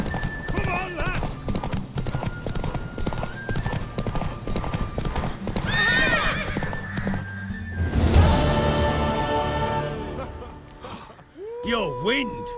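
In the video game The Witcher 3: Wild Hunt, rapid hoofbeats clatter steadily as a horse gallops, with a loud whinny near the end and voices talking over the action.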